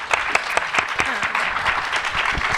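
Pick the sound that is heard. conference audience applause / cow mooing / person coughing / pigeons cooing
conference audience applause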